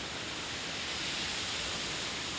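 Strong flood water rushing past, a dense, steady roar of hissing broadband noise that stays uniform and loud without pause.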